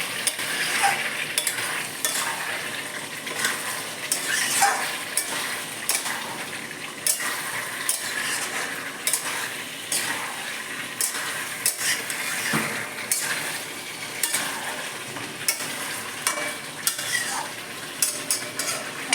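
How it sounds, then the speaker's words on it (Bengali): Meat and fried potatoes are stirred in a pan of hot oil: a steady sizzle broken by repeated scraping clicks of a utensil against the pan, close up and alone for about twenty seconds. "মাংসটা আলু ভাজাটা দিয়ে দিলাম আমি একটু নাড়িয়ে"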